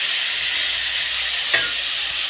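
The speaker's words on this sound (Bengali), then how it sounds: "আলুগুলো দিয়ে দিয়েছি, কড়ার মধ্যে আলু দেওয়া হয়ে গেছে" Potatoes fry in a wok for a potato-onion chowmein, making a loud, even sizzle with one faint clink of stirring midway.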